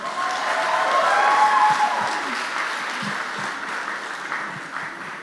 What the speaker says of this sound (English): So maybe a round of applause for Hannah and Josh.